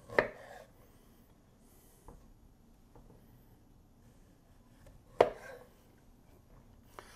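Knife cutting pork chops down the middle on a board: two distinct sharp chopping strikes a few seconds apart, with faint small taps between them, close and fairly quiet, no talking.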